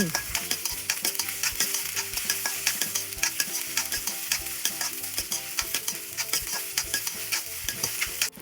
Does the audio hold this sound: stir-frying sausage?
yes